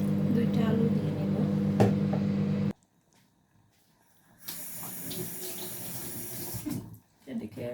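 Water runs from a tap into a pot of meat curry in a kitchen, a steady splashing stream that stops, then resumes after a brief silence.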